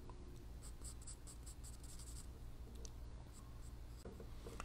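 Charcoal stick drawn lightly across paper, a series of soft scratchy strokes in quick bursts, faint and close with no talking.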